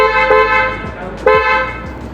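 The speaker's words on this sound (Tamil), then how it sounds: "ஸோ இப்போ நம்ம வந்து செட் பண்ண ஹார்ன் அடிக்குது." An aftermarket car horn fitted as an upgrade sounds two loud, close, steady honks of about a second each, with a short gap between them.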